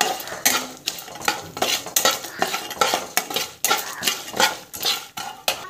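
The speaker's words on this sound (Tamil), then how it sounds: "ஸோ மிளகாத்தூள் வந்து ஆட் பண்ணுறோம். ஸோ நல்லா வதக்கிக்கலாம்." A metal spoon stirs lentils and chana dal sautéing with chili powder in a pan, scraping and clanking loudly in a regular rhythm over a light sizzle, with nobody speaking.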